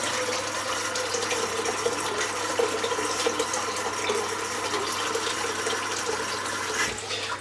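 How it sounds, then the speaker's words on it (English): Tap water runs steadily into a bathroom sink as it fills, a continuous broadband rush lasting throughout with no talking, near and fairly loud. "I'll just fill the sink up now"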